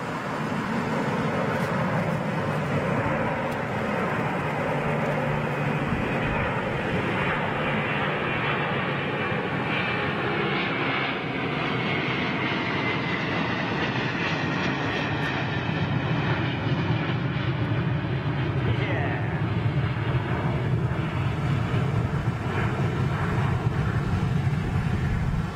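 Jet airliner engines at Heathrow, CF6 or Pratt and Whitney, roar loudly and continuously, with a broad rumbling whine that holds steady and rises slightly toward the end, no voices over it.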